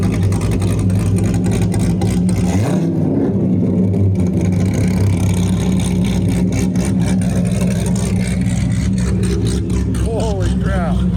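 A twin-turbo Ferrari F12 revs nearby, a loud steady engine drone with a sharp rising rev burst, while excited voices talk over it.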